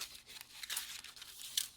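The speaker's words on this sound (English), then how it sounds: "Cut the dots in half." Scissors cut through a sheet of glue dots for an Easter-themed mini paper basket, giving a quiet, brief crinkly snip and rustle of paper backing, with a couple of sharper crackles near the end.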